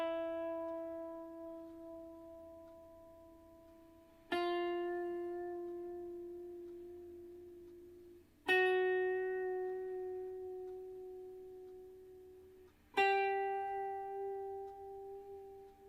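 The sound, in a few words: lead guitar blues rock vibrato with tiny bends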